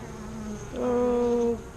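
Bees at a beehive buzz close by, a steady droning hum that swells louder midway as one passes near, then settles back, with no voices.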